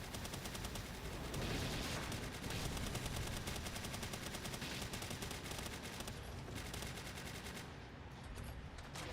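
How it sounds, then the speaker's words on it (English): Sustained, dense minigun fire in the video game Palworld, a loud continuous rattling barrage running nonstop with no talk over it. "There we go. Minigun."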